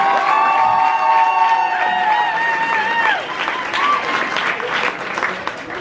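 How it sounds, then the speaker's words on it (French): An audience at a French-language comedy show bursts into applause with cheering and whoops, loud and sustained at first, then thinning out toward the end. "s'il vous plaît, applaudissez mon effort que j'ai dû fournir pour venir voir les amis québécois"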